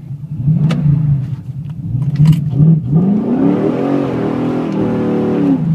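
A 426 Hemi Challenger engine roars through a neutral drop, loud and close, with rising and falling revs that climb into a long sustained high-rpm pull, no one speaking.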